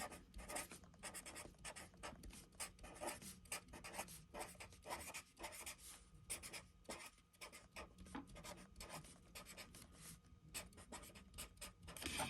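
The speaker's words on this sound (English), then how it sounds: "I'm going to write that down" Pen writing on paper while working a lattice method math problem: continuous close scratching and rubbing strokes in quick bursts, steady throughout with no talk.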